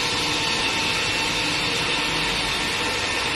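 A loud stone-working machine runs continuously with a harsh, grinding whine and dense mechanical roar, close by and unchanging for the whole stretch.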